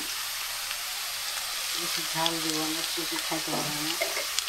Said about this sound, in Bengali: পেঁয়াজ কাঁচামরিচ তেলের উপরে, আর ওইটা হলো শাকের জন্য কাঁচামরিচ পেঁয়াজ তেলের উপরে